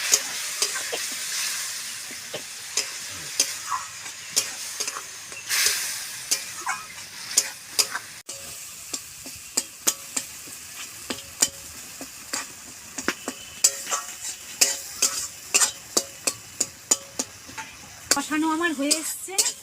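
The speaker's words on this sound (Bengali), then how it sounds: "অল্প জল, মশলাটা ভালো করে কষে নেব।" Spice paste sautéing in a pan with a little water, a soft sizzle running under repeated sharp scrapes and taps of a spatula stirring against the pan, irregular and close, growing busier toward the end.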